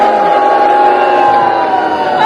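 Crowd noise at a Renaissance festival show, a dense steady roar of cheering and applause from a large audience, loud and continuous throughout, with no clear individual voices.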